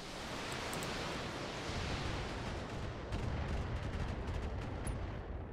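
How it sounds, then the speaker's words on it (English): A BattleTech mech's missile salvo fires and detonates in a long roaring, rumbling barrage with scattered sharp blasts, loud and sustained throughout. "Fire your missiles, please."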